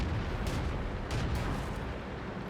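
Heavy Soviet tank cannon fire in World of Tanks gameplay, a dense, loud, continuous rumble of booming blasts and battle noise filling the whole stretch with no speech over it.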